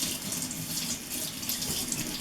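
Cold tap water pours steadily into a sink while homemade butter is rinsed, a close, even, continuous splashing rush with no speech.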